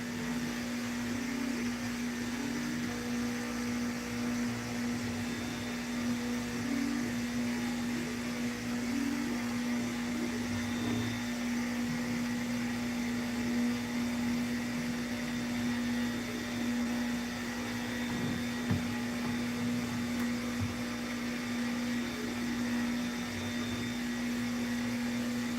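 A CNC router carves a wooden sign, its spindle holding a steady, faint high whine with a constant mechanical hum underneath throughout, broken by occasional small ticks of cutting.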